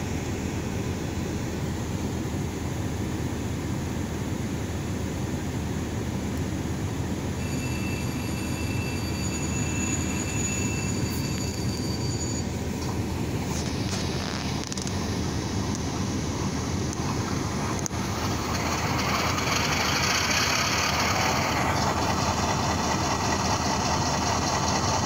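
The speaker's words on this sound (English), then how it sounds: "that was the startup sequence with the prime mover" An Athearn Genesis GP-7 model locomotive with a Tsunami 2 DCC sound decoder plays its prime mover startup sequence, a steady droning engine hum with faint tonal whines and clicks, brightening and swelling in the final seconds, no talking.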